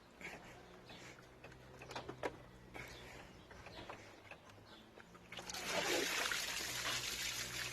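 Water gushes from a disconnected radiator hose on a Triumph Spitfire 1500 into a drain, starting as a faint trickle under quiet background noise, then swelling into a louder, steady splashing pour.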